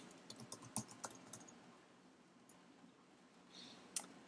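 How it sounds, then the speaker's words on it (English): Quiet, scattered keystrokes tapped on a computer keyboard, a handful of light clicks in short bursts with a pause between, close by and faint. "If I can type."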